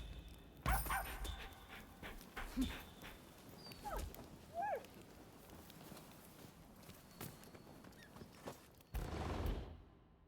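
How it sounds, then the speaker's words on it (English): A dog in the game Rise of the Ronin pants and snuffles nearby, with footstep-like thumps and a few short louder bursts over a quiet ambient bed. "Dog."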